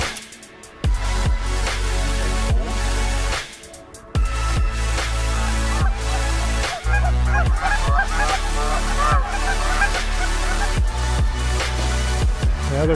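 A flock of geese honks continuously as the birds fly in over a cold-weather goose hunt, loud, overlapping calls with no talk.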